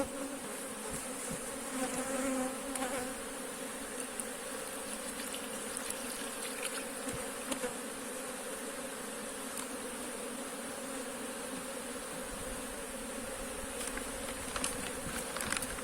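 Many honeybees buzz continuously close by at an opened hive, a steady droning hum with no talking and occasional faint clicks.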